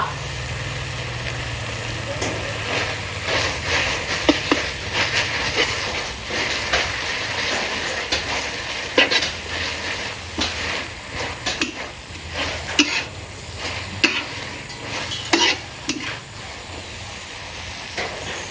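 Garden vegetables picked beside the house are stir-fried in a pan, giving a steady loud hiss of frying with irregular scraping and clattering stirs throughout.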